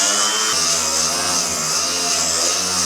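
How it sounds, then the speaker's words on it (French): Angle grinder flattening aluminium welds on a jet boat hull. The motor whines loud and steady, the tone shifts slightly as the disc bites the metal, and then it cuts off abruptly at the end. "Quand tu meules à plat, tant que tu vois un défaut, tu continues de meuler sur toute la surface que tu es en train de faire."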